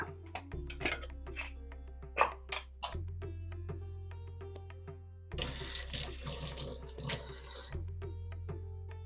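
Water runs from a tap in steady streams that start and stop, with a louder, fuller gush partway through and occasional clinks of dishes.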